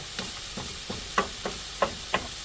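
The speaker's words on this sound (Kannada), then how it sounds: "ಆ ಕಡೆ ನಮ್ಮ onion light brown colour fry ಆಗ್ತಾ ಉಂಟು" Onions fry in a pan for Mangalorean-style mussels sukka, a soft steady sizzle broken by about seven light, evenly spaced scraping stirs, close and quiet with no talking.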